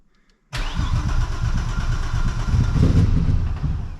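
An old car engine, not run for three years, cranks and catches at about half a second, then runs loud and rough with a steady low rumble for the rest of the clip, no voices.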